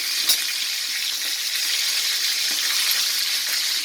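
Kerala-style fish roast frying in oil on a tawa gives a bright, steady sizzle and spatter, close and fairly loud, with a few faint clicks and no voices.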